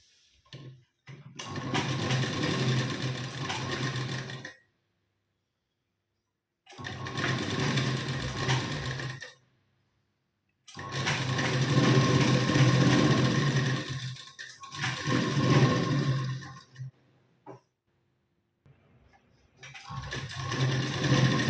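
A home sewing machine stitches a blouse sleeve onto its lining, running in several loud, steady whirring bursts of a few seconds each, separated by short silent pauses.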